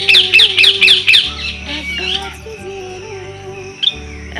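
A pet bird named Mithu squawks loudly from overhead in a quick series of five or six sharp calls, then falls quieter with a few softer chirps and one last squawk near the end.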